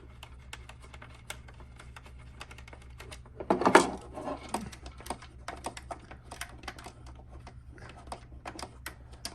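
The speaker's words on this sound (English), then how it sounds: "So I'm basically unscrewing this." A screwdriver backs screws out of an outdoor enclosure for an ImoLaza 8-zone smart sprinkler controller, giving faint scattered ticks and small clicks, with a brief louder rattle of handling partway through, close by and without talk.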